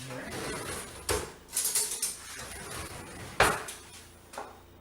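A spoon scraping and clinking against a pot while scooping garlic for moules frites, a few separate metallic knocks and scrapes at moderate volume, with some speech.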